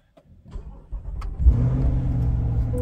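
A 2022 Chevrolet Corvette C8 with a check-engine and transmission fault cranks briefly, catches and fires into a loud, steady idle close by with no talking.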